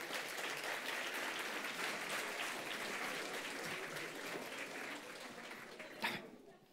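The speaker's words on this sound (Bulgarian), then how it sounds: "Дами и господа, аплодисменти за професор Драгански." An audience at a brain and memory lecture applauds steadily, a thick wash of clapping that stays loud and even, then cuts off abruptly near the end.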